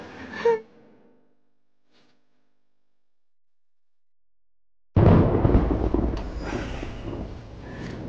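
Thunder cracks in suddenly after a brief vocal gasp and a long silence, then rolls on as a loud, rumbling roar that slowly eases off.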